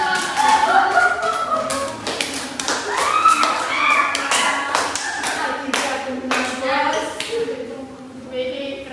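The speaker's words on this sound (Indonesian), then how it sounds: "Tepuk tangan." A classroom of students claps in scattered, uneven bursts near the microphone, with children's voices and chatter running through and under the clapping.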